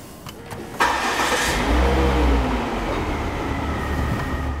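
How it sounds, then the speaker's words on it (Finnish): A Volvo car engine is started during an oil service: it cranks briefly, catches about a second in and settles into a steady, fairly close idle, with no talking. "Tämän jälkeen laitetaan auto käyntiin ja katsotaan, että öljy lähtee virtaamaan."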